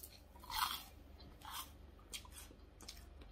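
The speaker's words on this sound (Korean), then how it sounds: "막 시내 허접한 빵집에서 먹는 크루아상보다 더 바삭함." Someone bites into a crispy, buttery croissant, giving a few sharp crunches with chewing between them. The sound is close, quiet and has no talk over it.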